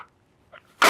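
A single loud, sharp sneeze bursts out near the end after a quiet moment, close and broadband.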